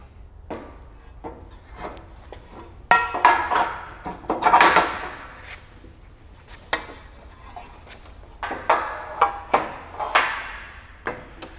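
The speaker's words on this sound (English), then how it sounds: "Now we're going to put the dowel back in." A dowel is worked back into a Candock modular gangway hinge, giving a series of close hard plastic knocks, clatters and rubbing scrapes in uneven bursts, with no talking.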